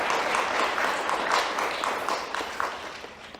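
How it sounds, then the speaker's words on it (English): Audience applause at a Quarters for Kids holiday event, a steady moderate clapping that swells and fades slightly across the few seconds, with no talk over it. "Let's give Tony a round of applause, please."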